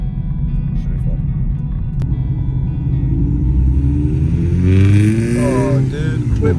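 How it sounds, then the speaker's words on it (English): A vehicle at a Road Rage Rally in Louisiana revs nearby, its engine rumble swelling into rising harmonic sweeps near the end over a steady low drone. There is no talk. "That dude likes revving every time I'm around."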